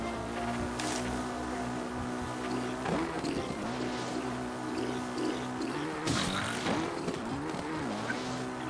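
Steady droning engine of a motorcycle ridden in Zelda: Breath of the Wild, a continuous mid-level hum with rising revs and bumps around the middle and later, alone with no talk.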